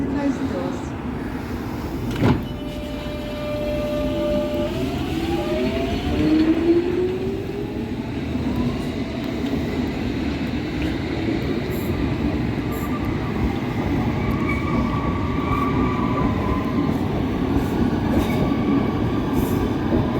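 A British train or Underground tube arrives and keeps running with a steady rumble, rising tones and faint wheel noise, loud and close throughout, with a brief clank early on.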